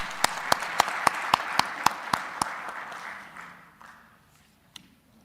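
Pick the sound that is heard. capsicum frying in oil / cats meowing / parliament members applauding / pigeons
parliament members applauding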